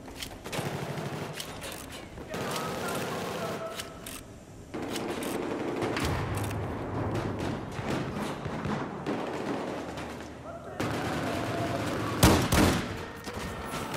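Gunfire from the video game Battlefield 4 during a Domination match: dense bursts of shots and thuds in rapid sequence, fairly loud and continuous, with a sharp louder blast near the end.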